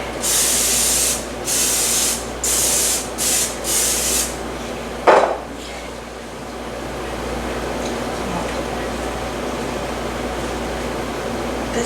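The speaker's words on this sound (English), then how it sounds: "I need to spray it with oil so it doesn't stick." Several short bursts of spray oil hiss one after another into an air fryer in a home kitchen, then a brief clatter, followed by a quiet room hum.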